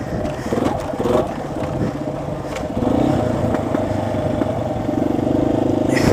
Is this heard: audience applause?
no